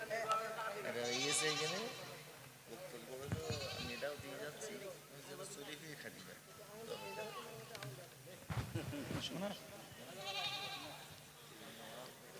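A goat bleats loudly several times during an auction, its wavering cries rising over people talking nearby.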